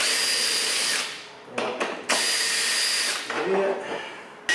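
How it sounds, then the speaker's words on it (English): A power drill whirs in several bursts while drilling on a Toyota Hilux, spinning up loudly, stopping, then starting again with short pauses between runs. "so just going to drill up"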